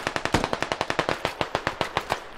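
Rapid automatic gunfire in the video game SquadOps, a steady burst of roughly twenty sharp shots fired in quick rhythm, fairly close and loud with no voices over it.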